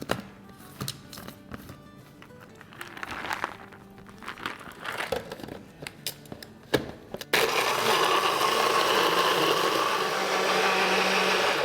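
A blender whirs through ice, water and lemonade drink ingredients, starting after a stretch of clinks and rustles, then a steady loud grinding roar that holds to the end.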